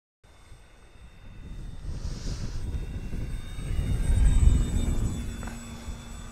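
A radio-controlled model plane drones overhead, its engine hum swelling gradually as it nears and passing steadily, with no voices present.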